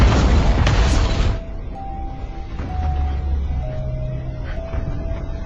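A tower collapses in a film with a loud, deep rumbling crash that cuts off after about a second, followed by quieter sustained musical tones and low rumbles.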